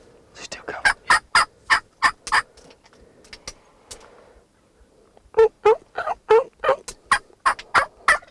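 Wild turkeys gobble during a bow hunt, a close, loud run of sharp rapid bursts, a quiet pause, then a second burst of gobbling just as loud, with no talk over it.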